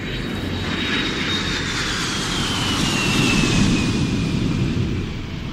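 A large aircraft flies overhead with a loud, sustained engine roar that swells and then eases, a thin high whine sliding slowly downward through it.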